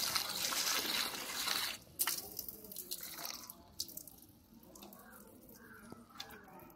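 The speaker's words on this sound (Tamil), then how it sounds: "எல்லா லீஃபையுமே வந்து கழுவி எடுத்தாச்சு" Gooseberry leaves, curry leaves and henna leaves are rinsed in water, with splashing and trickling that is loud at first, then softer sloshes and drips, close by.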